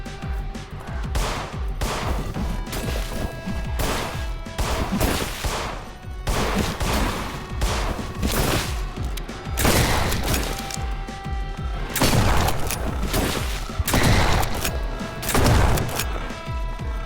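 Gunfire from shooting at an enemy's weak points in the horror game In Sound Mind, loud bursts of shots in clusters separated by short pauses, with sharp cracks and heavy impacts repeating over the whole stretch.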